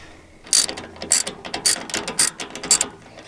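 Ratchet wrench with a 16mm socket backing out canopy bolts on a new mini excavator, a quiet start giving way to a steady run of sharp metallic clicking strokes, close and loud, with no talk.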